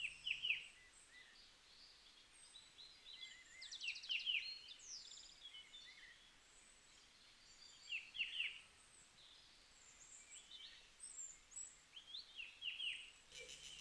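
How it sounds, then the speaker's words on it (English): Various birds call in a Himalayan forest, including a golden babbler, with bright chirps and short whistled phrases repeating in bursts at moderate distance over a quiet background. "all we could hear were various bird calls."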